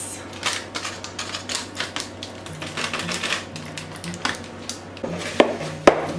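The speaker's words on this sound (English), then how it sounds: "Cut open the brownie mix. Mix that with the eggs." Brownie mix being stirred together with eggs in a bowl, a steady run of quick scraping, clinking strokes close up, with a couple of sharper taps near the end and no talking.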